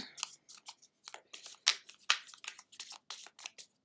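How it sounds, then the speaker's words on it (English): A deck of tarot cards is shuffled by hand, a quick series of crisp riffling flicks and snaps, close and fairly quiet with short gaps between bursts, no voices. "Okay, I need to shuffle again."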